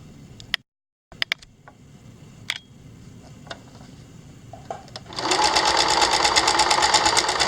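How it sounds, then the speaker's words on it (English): A sewing machine stitching welt for a rocking chair: sparse clicks and taps at first, then a steady, loud, rapid mechanical whir for the last couple of seconds. "whenever you stop your sewing machine"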